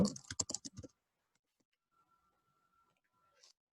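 A quick burst of keystrokes on a computer keyboard as a product code is typed, close and crisp for under a second, then near silence with a faint tone.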